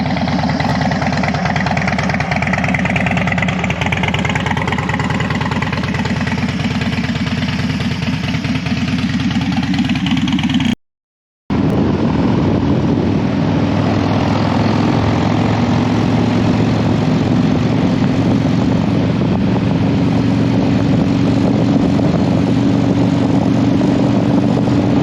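A Harley-Davidson Dyna motorcycle engine drones loud and steady on the road, a continuous low rumble broken by one brief cut to silence midway before resuming with a deeper, even tone.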